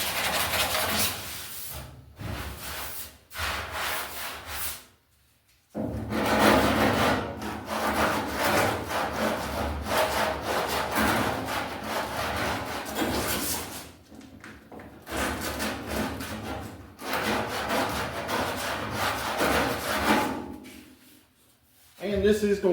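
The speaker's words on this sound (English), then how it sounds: "this is going to gum your sandpaper up pretty bad because the filler's thin" Hand sanding of thin body filler on a 1966 Mustang body panel, with long rasping back-and-forth strokes in steady bursts and brief pauses between passes, close and fairly loud.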